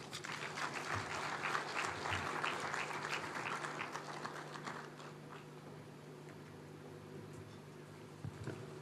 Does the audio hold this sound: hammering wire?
no